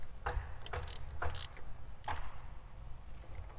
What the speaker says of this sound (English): Tighten the spark plugs down.